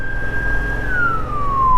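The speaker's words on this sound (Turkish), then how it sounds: "Ambulansa bak, yola bak, yola bak." An ambulance siren wails loud and near in traffic, as heard from a Yamaha R7 motorcycle, holding a high tone before sliding downward as it passes, with engine rumble beneath.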